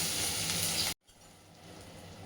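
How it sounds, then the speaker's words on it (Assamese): Chopped onions frying with a little cinnamon give a loud, steady sizzle for almost a second, then the sound drops abruptly to a much quieter, softer hiss. "লৰালৰিৰ কাৰণে অকণমান দালচেনিকে দি পিঁয়াজখিনি ভাজি লৈছোঁ।"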